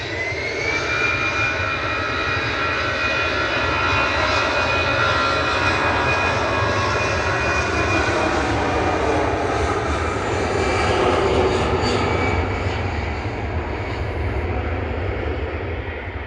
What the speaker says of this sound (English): Finnair departing back to Helsinki next